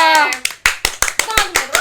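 Several sharp hand claps ring out in a quick, uneven burst, mixed with a voice talking over them.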